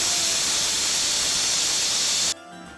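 A pressure cooker full of tomatoes with ginger and peppercorns lets out a loud, sustained steam whistle. The hiss cuts off abruptly near the end into quieter background.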